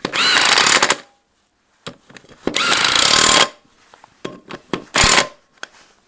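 Cordless power tool spinning wheel nuts onto a 1968 Regal 3/25 Super, loud close bursts of impact rattling separated by quiet gaps, with scattered small clicks and knocks between them.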